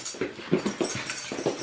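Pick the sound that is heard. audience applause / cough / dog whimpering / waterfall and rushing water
dog whimpering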